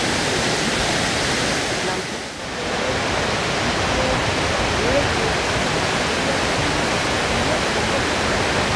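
Sitakunda waterfall roaring steadily, a loud, dense rush of falling water that stays constant throughout with a brief dip, close by.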